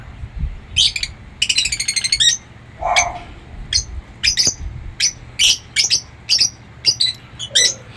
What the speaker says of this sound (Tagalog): Napakasarap pagmasdan, lalo na pagka sila ay mga nag-chirping.